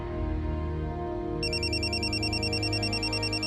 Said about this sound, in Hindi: फोन उठाओ। बाबूजी का फोन है ना?